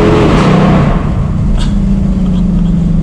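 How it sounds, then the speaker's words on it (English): A 2020–2023 Ford Mustang Shelby GT500 pulls away from first gear, its exhaust a loud, steady low rumble that swells and holds for a few seconds with no talk over it. "That is aggressive, that exhaust"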